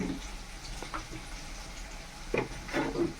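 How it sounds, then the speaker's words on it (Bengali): Chopped onions frying in oil with cinnamon and cardamom, a soft steady sizzle with occasional stirring scrapes, fairly quiet and without talk. "তারপর পেঁয়াজ চাপিয়ে দিলা, পেঁয়াজ কুচিগুলো তেলের মধ্যে দিয়ে দিলাম।"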